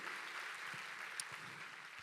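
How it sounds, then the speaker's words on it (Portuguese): Church congregation clapping together after being asked to applaud the word of God, a steady, fairly quiet wash of hands throughout with no voices. "Você pode aplaudir a palavra de Deus?"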